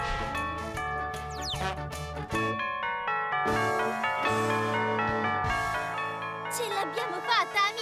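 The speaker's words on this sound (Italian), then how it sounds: "Abbiamo oltrepassato la torre delle campane scampananti!" Bright, tinkling bell tones from a game's bell tower ring in melodic patterns over game music, with a cheerful Italian voice chiming in near the end.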